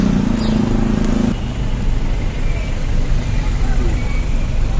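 Steady road traffic on a busy city street in Baguio, near Quezon Road and Burnham Park, recorded from a moving vehicle, a continuous drone of engines with voices talking over it.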